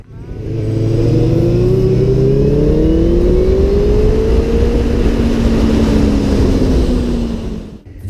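Yamaha Fazer motorcycle accelerating hard, its engine note climbing and swelling through a long loud rev before dropping off at the end, heard close and alone.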